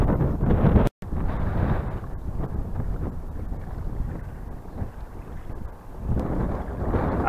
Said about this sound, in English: It's a very grey, cold, windy day.